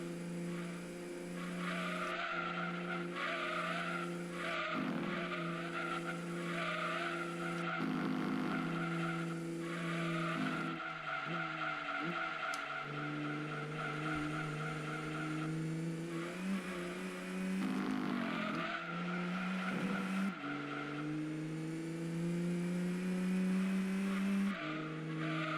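Race car lapping in Gran Turismo 2, its engine droning loud and steady with rising and falling revs through gear changes, plus tire squeal in the corners, continuous for the whole stretch.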